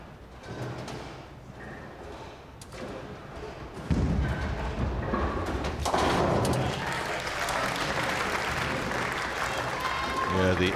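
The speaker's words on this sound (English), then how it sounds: "the applause very subdued indeed" Subdued audience applause at a Weber Cup bowling match, light scattered clapping that swells after a heavy thud of pins, with talk running over it and occasional knocks and bangs in the hall.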